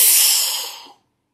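A forceful, sustained exhalation pushed out hard during a respiratory muscle strength test: a loud, breathy hiss that rushes out at once and tapers over about a second, then stops dead into silence, with no voices.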